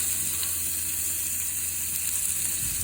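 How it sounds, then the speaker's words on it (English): Steady sizzling of fish frying in a pan, a continuous bright hiss with no talking, fairly close. "Sizzling."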